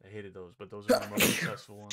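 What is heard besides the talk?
sneeze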